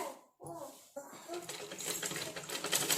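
A sewing machine stitches the fall onto a saree: a short pause, then a dense run of fast, even mechanical clatter that grows louder toward the end, close to the listener.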